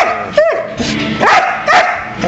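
A dog barks and yips loudly and close by in a few short bursts, some rising into whiny yelps, with a person talking in between.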